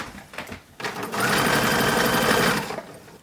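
A sewing machine stitches buttons onto a 1940s WWII staff assistance uniform dress, running in one steady, loud burst of about a second and a half after brief handling noises, close by with no talk.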